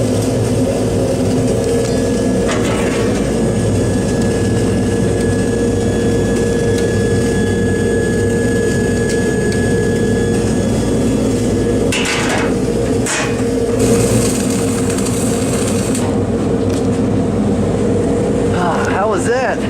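Dual shield flux-core wire feed welding at about 150 amps: a loud, continuous crackling arc sizzle held steady and close throughout, with a few sharp clanks and shifts near the end.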